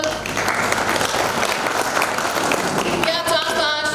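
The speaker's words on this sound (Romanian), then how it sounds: "Vreau să îi aplaudăm chiar dacă lipsă." An audience at an award ceremony for couples married 50 years claps steadily and fairly loudly for several seconds, with a voice briefly audible toward the end.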